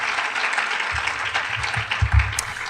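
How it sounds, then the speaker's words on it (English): Audience applause for the sponsors at a women's conference keynote event at Old Dominion University, a steady wash of clapping from a sizeable crowd held at moderate level throughout. "Please give them a rousing round of applause."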